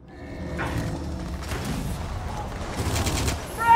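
Gunfire in Gears of War crackles in a couple of short, muffled bursts mixed with thumps and game noise, moderately loud and brief.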